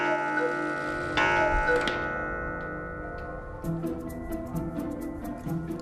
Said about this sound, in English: The Black Forest cuckoo clock was also a big hit.